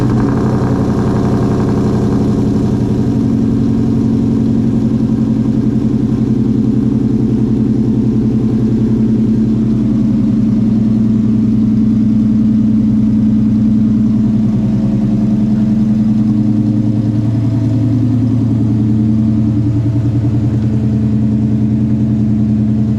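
A Coyote V8 swapped into an SN95 Mustang fires up from cold and settles into a loud, deep idle, its exhaust rumbling close and steady, with the pitch shifting slightly as revs ease.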